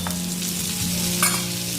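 Chopped tomato going into onions sautéing in a hot pan, a steady close sizzle and frying crackle with a brief louder burst as the pieces land, no voices.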